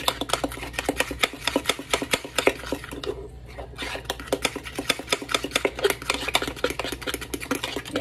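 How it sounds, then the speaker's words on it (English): Cornbread batter stirred briskly in a bowl, a fast steady rhythm of utensil clicks and taps against the sides that pauses briefly partway through, with no talking. "Mix it. Just mix it. Get all the lumps out."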